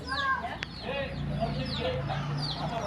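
Chickens cluck and call softly in a steady background at a village temple in Konkan, with a brief faint crow-like note among a low hum, no talking.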